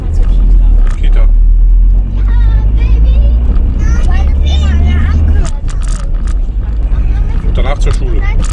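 A family car pulls away and keeps driving, its engine a steady low rumble with road noise throughout, while children's voices and other chatter sound over it inside the cabin.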